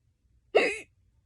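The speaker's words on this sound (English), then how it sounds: "My hiccups are like..." A single short hiccup, close and sudden, stands out against near silence.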